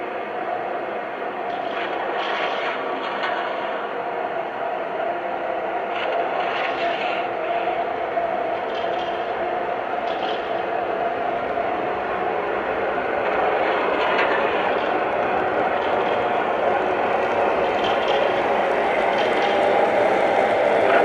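A Lionel Vision Line GG1 #4800 "Old Rivets" O gauge model locomotive running by at speed, making a continuous, steady mechanical hum and rumble that stays loud and even throughout.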